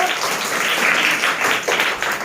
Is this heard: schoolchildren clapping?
yes